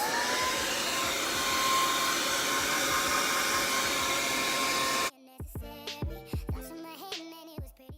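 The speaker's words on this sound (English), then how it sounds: "Then you're gonna get your blow dryer." A hair dryer blasts loudly at full power for about five seconds, then cuts off abruptly and music plays.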